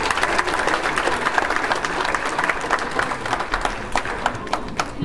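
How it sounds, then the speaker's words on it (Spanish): An audience at a cultural centre dance performance breaks into loud, dense applause with many overlapping claps, a steady crowd roar of hands lasting the whole stretch. "Les regalamos otro fuerte aplauso,"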